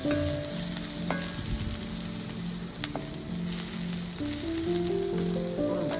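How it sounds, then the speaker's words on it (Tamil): Sliced onions sautéing in a pan for a Tamil jackfruit stir-fry, a steady close sizzle with soft scraping stirs and no voices. "வெங்காயத்தை நல்லா வதக்கிக்கணும்."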